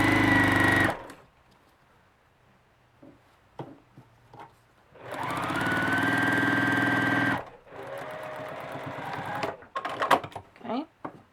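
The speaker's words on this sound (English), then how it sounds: "What I'm doing is sewing a little bit close to this fold, not this one, the inside fold." A sewing machine stitches close to the inside fold of fabric, about 1/8 inch in, for a bunny design. It runs in loud, steady bursts near the start and again in the middle, with quieter handling noises between and a rougher, stop-start stretch at the end.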